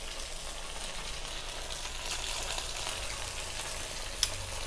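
Chicken pieces frying in hot oil in a home kitchen, a steady close broadband sizzle holding evenly throughout with one small sharp pop near the end, no voices.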